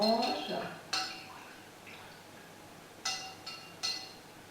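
Homemade toilet gel with black soap is stirred in a container, giving a few sharp clinks and taps of a utensil against the vessel, close and fairly quiet.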